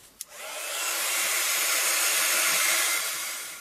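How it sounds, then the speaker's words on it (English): A heat gun blasting hot air to dry paint on a canvas, a steady loud whooshing roar that starts after a small click and holds evenly throughout. "I'm just going to blast that with a heat gun just to make sure it's all dry"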